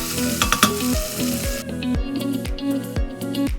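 Cubed potatoes and carrots stirred in a hot pan for a Kerala-style vegetable stew, a busy sizzle with regular scraping strokes of the spoon, close and steady, no voices.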